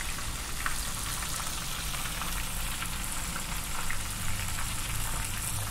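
Katsu chicken drumsticks deep-fry in oil at 300 degrees, giving a dense, continuous bubbling hiss that stays loud and even throughout, with no voices.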